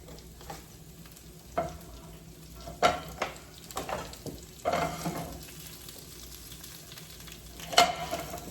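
Baby spinach sizzles in a hot pan with salt and pepper while a utensil stirs it, making a steady frying hiss broken by several distinct scraping and clattering knocks against the pan.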